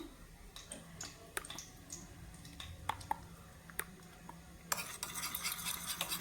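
Fried onion is mixed with soy sauce and chili sauce for chili cauliflower: soft, quiet scraping and tapping of a spoon, then a brighter hiss of frying near the end, with no speech.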